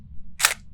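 Single camera shutter click in the video game Phasmophobia, a short crisp mechanical snap standing alone over quiet low background hum.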